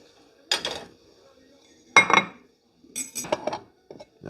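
Asparagus served onto a plate with metal utensils: three separate clinks and scrapes of cutlery against china, close and crisp, with quiet pauses between them.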